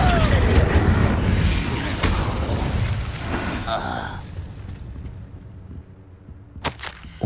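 An Expelliarmus spell in the Hogwarts Legacy video game lands as a dense, rumbling magical burst with mechanical crackle, fading over several seconds into quieter ambience before a few sharp clicks near the end.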